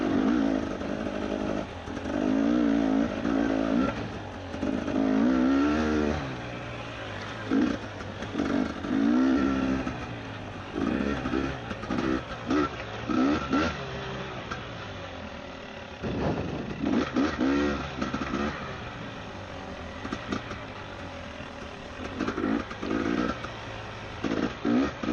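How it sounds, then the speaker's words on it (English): A two-stroke motorcycle engine revs in bursts, rising and falling in pitch with short gaps between pulls, loud and close, with no talking. "Boy, I'm loving this two-stroke though, it's crazy."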